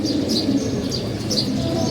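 Pigeons in a loft coo in a low, continuous murmur, with a few brief higher chirps rising above the steady flock sound.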